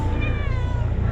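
A cat lets out one drawn-out meow, loud and close, over a heavy low rumble of background noise on a set used for a crime drama series.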